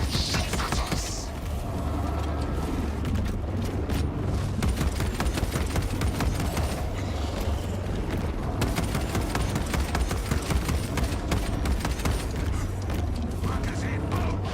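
Near-constant video game gunfire rattles in rapid bursts through a dense, noisy mix with mechanical clatter, with a voice talking over parts of it.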